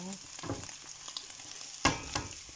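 Chicken pieces drop into a hot pan of oil and fry with a steady close sizzle, broken by a few stirring scrapes and clatters and one sharp splash partway through, with no talking.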